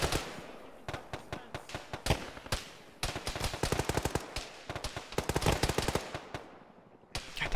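Machine gun fire in a military video game: rapid, loud bursts of automatic shots crackle almost continuously, with brief pauses between volleys and no voices.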